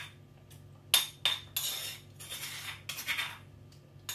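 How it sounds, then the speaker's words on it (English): Fish marinade being moved into a bowl for a Moroccan fish tagine, with a few light clinks and scrapes of a utensil against the dish, close and quiet, no talking. "I'm just going to transfer this to a bowl"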